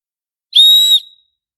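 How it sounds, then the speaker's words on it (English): One sharp, piercing blast from a titanium survival whistle, loud and close, lasting about half a second with a quick fade into silence. "I almost forgot the whistle. I got the titanium."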